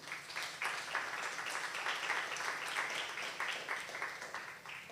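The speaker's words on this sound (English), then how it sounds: "Let's give them another round of applause again" Conference audience applauding in a hall, a steady wash of many hands clapping that holds evenly for several seconds, fairly distant and diffuse, with no talk on top.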